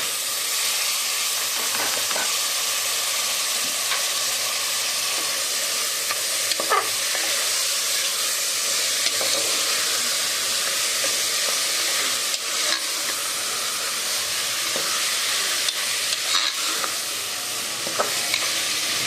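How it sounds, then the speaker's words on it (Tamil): Cowpeas are stir-fried in oil for a South Indian poriyal, giving a loud, continuous hissing sizzle close by with occasional stirring scrapes and no speech. "மிளகாத்தூள் சேர்க்காத முன்னே கொஞ்சம் எண்ணெயிலே நல்லா வதங்கணும்"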